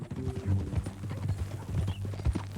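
Horse hooves clip-clop in the Western video game Red Dead Redemption 2, a steady, fairly close rhythm of hoofbeats with some low background noise.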